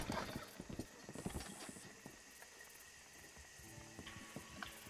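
Rapid clip-clop of a horse galloping in a Red Dead Online-style video game, hoofbeats pounding close and loud in a quick uneven rhythm with a brief whinny, set against a low game ambience.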